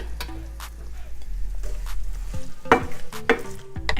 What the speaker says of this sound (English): Now we're gonna go ahead and add the sliced onions. Move it around a little bit.